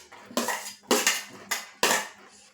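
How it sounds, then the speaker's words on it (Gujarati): Finely chopped onion tipped into a bowl for a potato masala sandwich, landing in four distinct bursts of scraping and clattering against the bowl, close and fairly loud with no talk. "બાઉલની અંદર હું એક ઝીણી સમારેલી ડુંગળી છે તે એડ કરીશ."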